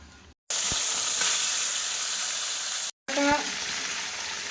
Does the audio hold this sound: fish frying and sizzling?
yes